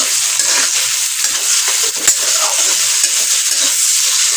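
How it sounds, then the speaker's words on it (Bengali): Onions fry in a pan with a loud, steady close sizzle and occasional stirring scrapes, continuous throughout with no voices. "সসেজ ভাজা হয়ে গেছে পেঁয়াজ ভাজছি"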